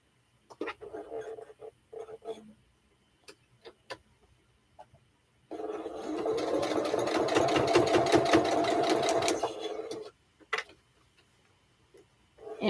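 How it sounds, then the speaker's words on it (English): A sewing machine stitching backwards on an elephant quilt whirs in one sustained run of about four seconds, framed by scattered clicks and handling taps before and after. "So I'm going to sew it backwards."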